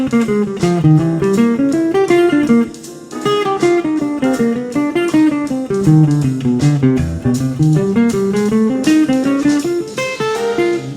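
An electric guitar plays a solo line of even, running eighth notes with a steady repetitive rhythm, loud and close, with nothing else heard.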